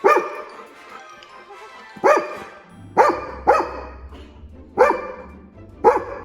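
Dogs, including a golden retriever, bark in loud, separate bursts about a second apart, close by, with a low whimpering hum between barks, excited before a morning walk.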